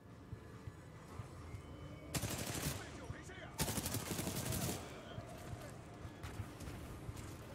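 Gunfire from the video game Titanfall 2, heavy rapid bursts of automatic fire in two dense stretches with lighter scattered shots around them, loud and close, with game voices and a player talking over it.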